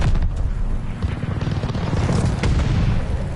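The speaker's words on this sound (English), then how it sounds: "Hostile strafe inbound" Call of Duty: Vanguard match with a hostile strafe run: dense, continuous rumbling gunfire and booming impacts rolling steadily for several seconds, loud and close with no pauses.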